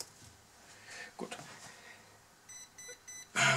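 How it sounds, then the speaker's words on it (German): An RC model electronic speed controller on a converted Manitou telehandler gives a short run of quick, faint electronic beeps near the end, preceded by quiet handling noises and a brief voice. "Altbekanntes Piepsen."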